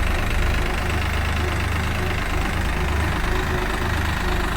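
Tractor engines, a Swaraj 744XT and a New Holland 3600, run steadily in a field, giving a loud, continuous low diesel rumble with a knocking throb that holds level throughout, with no talk.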